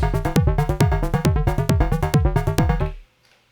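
Bright analog synthesizer sequence with metallic, pitch-bending FM tones, one oscillator modulating another, on a DFAM in a quick repeating pattern, loud and close, cutting off abruptly near the end.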